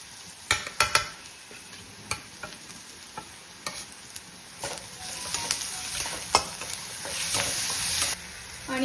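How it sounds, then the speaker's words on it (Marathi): Ground garlic and chili fry in oil in a pan. Spatula clicks and scrapes tap out an irregular rhythm over a soft sizzle, and the sizzle grows fuller and louder toward the end. "तर आता याच्यामध्ये मी लसूण आणि मिरची दळलेली होती ती टाकते."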